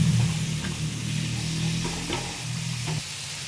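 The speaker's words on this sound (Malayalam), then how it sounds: "ഇനി ഇതും അതേപോലെ നന്നായിട്ട് വഴറ്റണം" Tomatoes sauté in a pan for a chapati side dish, a steady close sizzle broken by soft stirring scrapes, with no voices.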